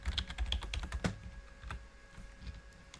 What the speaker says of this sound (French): J'espère que vous n'entendez pas trop fort mon clavier